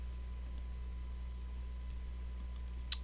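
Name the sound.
pressing the K key on a computer keyboard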